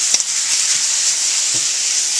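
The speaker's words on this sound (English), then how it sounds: "here we're frying up the turkey and vegetable mixture" A steady hiss of turkey and vegetables frying in a pan, with a few faint clinks of a utensil against the metal.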